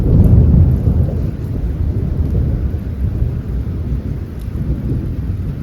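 Thunderstorm rolling over a Scottish campsite, a deep continuous rumble of thunder with steady rain, loudest at the start and holding strong throughout, no voices.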